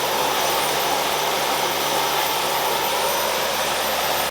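A turbine engine on the Turbine Thunder Mustang, a LongNose Thunder aircraft, runs up to maximum reverse thrust. It makes a loud, steady roar that fills the whole span without a break.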